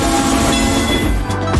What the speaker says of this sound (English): I can hear the train going.